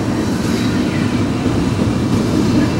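An eastbound freight train of twin-stack container cars, some carrying Hyundai shipments, rolls past close by, a steady loud rumble of wheels and rails with faint clatter throughout and no voices.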